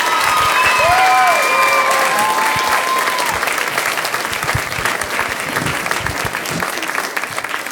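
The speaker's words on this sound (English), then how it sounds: "another round of applause for all these fifth graders who won't be here next year." Audience applause fills an elementary school spring musical, a Lion King Kids performance, as a loud sustained round of clapping from a crowd, steady throughout with a few scattered cheers mixed in.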